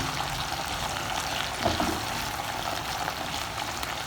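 Potatoes fry in a pan for an aloo beans masala dish, a steady close sizzle with a faint stir partway through.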